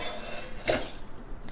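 A spoon scraping seed butter into a blender, with a brief metallic clink and scrape in the middle against quiet kitchen background.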